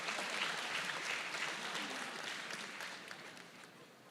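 Steady applause from an audience at a university award ceremony as a prize winner, Agata, is honoured; dense clapping holds evenly throughout, fading slightly toward the end, with no talk over it.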